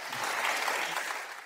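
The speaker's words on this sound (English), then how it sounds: "There is the applause." A brief burst of audience clapping at a panel discussion on energy and inflation, a dense, even patter of many hands lasting only a moment before tapering.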